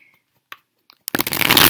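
A few faint clicks, then a quick burst of tarot cards riffling together, a crisp rapid fluttering that grows loud and close.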